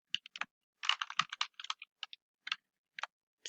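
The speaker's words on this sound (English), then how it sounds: "let's type something here" Fingers type on a computer keyboard in short irregular bursts of close, crisp key clicks, with brief pauses between words and no talking.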